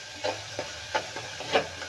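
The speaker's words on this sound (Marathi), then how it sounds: "तर आपण हे व्यवस्थित भाजून घेऊया तेलामध्ये" Green chillies roast in hot oil in a pan, giving a soft steady sizzle with a few light stirring scrapes and taps spaced through the moment, close and fairly quiet.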